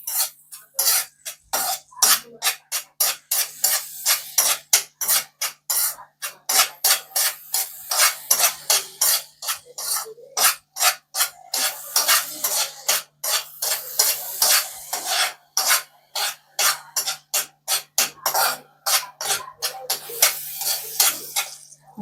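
Banana modak mixture being sautéed in a pan, heard as a steady run of rhythmic scraping strokes of a spatula against the pan, close and fairly loud, continuing throughout with no talking.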